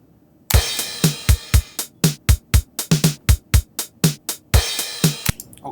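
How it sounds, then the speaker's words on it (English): A programmed drum loop of kicks, snares and hi-hats, with a bright cymbal crash on beat 1 splashing in at the start and again near the end. "Hey, maybe I want a cymbal crash on beat 1."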